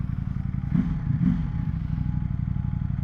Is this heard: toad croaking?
no